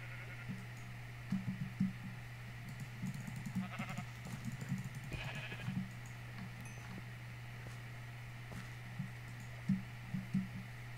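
Sheep in the video game Minecraft bleat in short, scattered calls over a steady low background hum, several brief bleats clustered through the middle and again near the end, moderately quiet with no talking.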